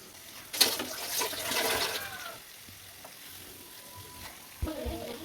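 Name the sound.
chicken frying in pan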